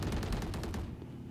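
Rapid automatic gunfire in the video game Valorant during a deathmatch, a burst of evenly spaced shots that stops abruptly, fairly quiet and with no talking.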